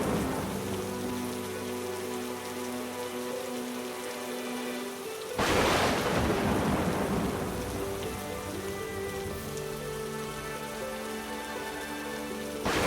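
Heavy rain pours steadily on a surface through a storm, with a loud burst of thunder cracking midway and rumbling on under the continuing downpour.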